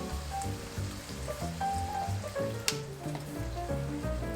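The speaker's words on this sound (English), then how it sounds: "It's time to add 1 tablespoon of soy sauce and 1 tablespoon of vinegar." Soy sauce and vinegar hit a hot pan while cooking Motsu Ichiran ramen, producing a steady close sizzle and bubbling with faint crackles over a low background hum, and no talking.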